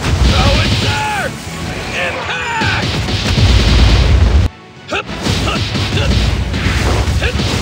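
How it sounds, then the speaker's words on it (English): Explosion attacks in the video game My Hero Academia: The Strongest Hero, a run of loud booming blasts and crashes with a brief silent gap near the middle, mixed with game effects and voiced shouting. "Let me show you what a real explosion is!"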